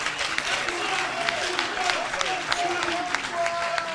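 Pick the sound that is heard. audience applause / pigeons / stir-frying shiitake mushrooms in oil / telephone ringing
audience applause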